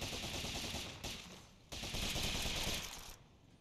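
Rapid automatic gunfire from unloading a stream of bullets in the video game Rogue Legacy 2, a loud continuous rattle in two bursts separated by a brief pause.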